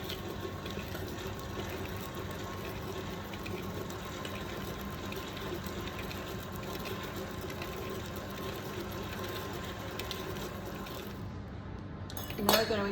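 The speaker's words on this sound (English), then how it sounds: "I'm just going to mix that through on low." Electric mixer whirring steadily on low speed as it blends egg yolk into butter for sablé dough, a continuous motor hum with faint clinks near the end.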